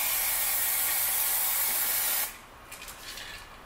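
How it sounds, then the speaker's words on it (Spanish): An aerosol spray paint can applied over a stencil gives a continuous close hiss for about two seconds, then cuts off abruptly, leaving a quiet room with faint clicks and handling sounds. "voy a echarle el aerosol"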